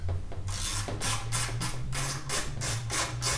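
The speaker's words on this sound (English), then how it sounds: "I'm going to go ahead and use a wrench." Wrench ratcheting on a Craftsman snowblower during a repair, a close series of quick clicking ratchet strokes in a steady rhythm, about seven bursts, with no talking.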